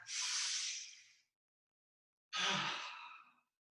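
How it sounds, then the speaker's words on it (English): Two deep breaths during a qigong exercise, a long airy inhale-like hiss followed by silence, then a second breathy exhale with a slight throaty edge, close and soft. "Big breath"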